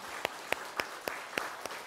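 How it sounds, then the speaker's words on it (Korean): A few sharp, evenly spaced hand claps, about six in under two seconds, ring out in a hall during a Buddhist temple dharma service, with no talking over them. "박수 한번 칩시다."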